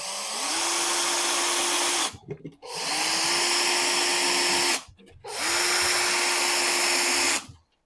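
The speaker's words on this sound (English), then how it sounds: "I think this drill will be much more quicker for these ones anyway" A power drill driving screws into flatpack drawers whirs up three times in a row, each burst running about two seconds with a rising pitch, close and loud with short pauses between.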